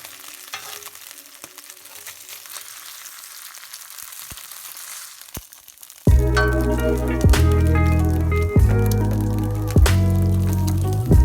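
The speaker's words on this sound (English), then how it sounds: "pre-cooking my meats. I'm not fully cooking it because it's going to continue cooking" Beef and shrimp are being pre-cooked in a pan for chow mein. A quiet stretch of faint clatter gives way to a loud, steady sizzle, broken by a few sharp knocks of the pan or utensil.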